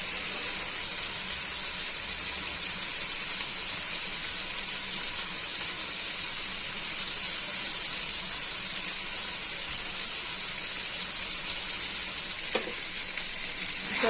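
Red fish sizzling and frying in a pan over a high flame, a steady bright crackle with faint stirring scrapes near the end, no voices.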